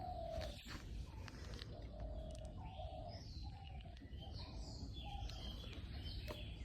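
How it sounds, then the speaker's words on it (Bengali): Several birds call and chirp in a cool rural village morning, with short whistled notes and scattered chirps repeating over a steady outdoor background hum, moderately distant and fairly quiet. "মনোযোগ দিয়ে শুনেন, পাখি ডাকতেছে।"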